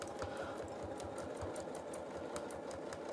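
Sewing machine stitching feathers in free motion quilting, a fast continuous mechanical whir with rapid rhythmic needle ticking, close and steady throughout with no talking.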